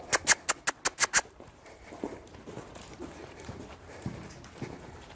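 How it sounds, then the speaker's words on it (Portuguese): A horse gallops during training, with a run of sharp, evenly spaced hoofbeats that come loud for about a second before fading into softer, scattered steps and background noise. "Galope."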